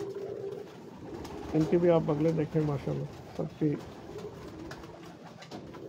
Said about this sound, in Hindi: ये कबूतर देखें